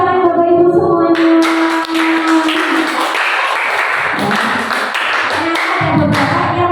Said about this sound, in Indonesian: Tepuk tangan Bapak Ibu semuanya.